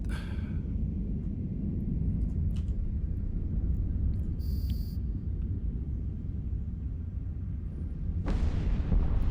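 Ship weapons fire during an EVE Online fleet fight, with a Drake fleet engaging Triglavian ships, as a steady low rumble that runs throughout and then a sharp, louder burst near the end. No voices.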